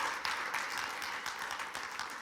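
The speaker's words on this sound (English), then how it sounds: "Yeah, let's clap for that." Church congregation applauding together for a couple being sent out to the mission field, a steady dense wash of clapping throughout.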